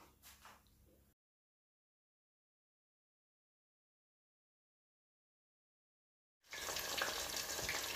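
Chicken deep-fries in hot oil in a pot, a loud, dense, steady sizzle that bursts in only during the last second and a half after a long silence, with faint noise at the very start.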